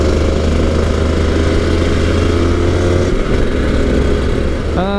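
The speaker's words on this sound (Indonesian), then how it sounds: "kita ngetes motornya di jalan raya utama BSD dan bakal muter ke belakang" A two-stroke 250cc Aprilia RS250 motorcycle riding on a main road, its engine a steady loud buzzing drone throughout, with a brief shift in tone near the end.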